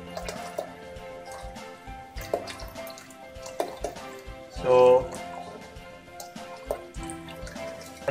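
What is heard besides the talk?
water being filled into a dam model tank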